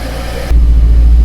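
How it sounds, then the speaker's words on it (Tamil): A petrol or diesel car engine idling unevenly before a decarbonization treatment, heard as a loud, close, low rumbling drone that jumps abruptly in strength halfway through and continues heavy to the end. "இந்த இன்ஜின் சவுண்டு பார்த்தீங்கன்னா ஒரு அன்ஈவனாக இருக்குது இல்லைங்களா?"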